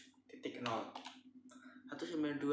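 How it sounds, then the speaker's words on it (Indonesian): Keys clatter on a computer keyboard in quick, uneven bursts of close clicks while a voice talks over them. "kita ketikkan"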